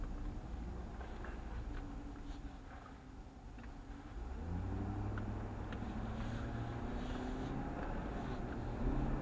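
A car's engine hums and road noise rolls steadily, then at mid-clip the drone dips and picks up with rising revs as the vehicle swings through a U-turn, heard from inside the cabin.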